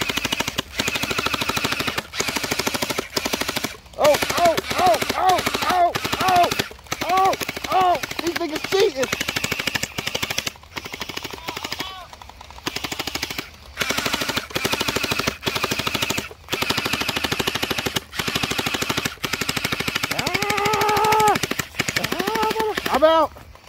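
Glow-in-the-dark gel blasters fire in rapid automatic bursts, loud dense rattling strings of shots with brief pauses between, while people shout and talk over the firing.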